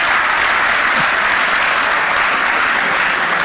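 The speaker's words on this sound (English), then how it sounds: "I assume you're applauding the end of the speech" A banquet hall audience at a leadership conference applauds steadily and loudly, a dense, unbroken wash of clapping from many hands throughout.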